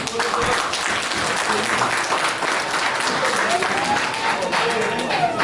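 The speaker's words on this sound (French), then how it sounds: "Vraiment, des applaudissements pour ces valeureux compatriotes." A New York community association's anniversary celebration, where the audience breaks into steady, dense applause for the group's founders, sustained and even throughout.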